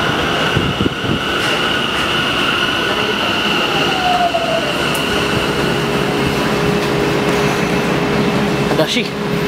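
A subway train in Japan rumbles steadily with a constant drone and a faint rising squeal, with a few clanks near the end and loud, continuous background noise.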